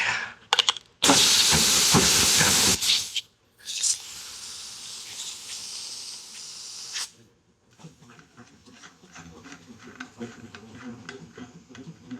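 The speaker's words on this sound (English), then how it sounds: "If the spray gun will spray." A spray gun sputters and hisses in loud bursts while laying a light coat of gasoline-thinned contact cement spray adhesive, then falls to a quieter intermittent hiss with faint ticking.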